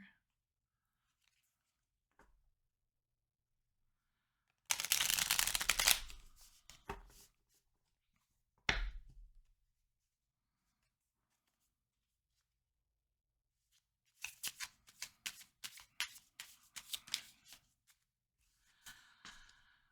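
A deck of tarot cards shuffled in short bursts: a dense riffle early on, a single snap, then a run of quick card flicks and taps near the end, with quiet gaps between them.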